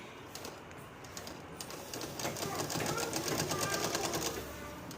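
A sewing machine stitches a V-neck frock, its rapid mechanical needle clatter running steadily and growing louder midway, with someone talking over it.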